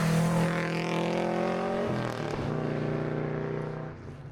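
A Ford Fiesta ST rally car drives at a rally stage event, its engine droning steadily and loud, then dropping in pitch as it shifts down or lifts off, with a slight fade toward the end.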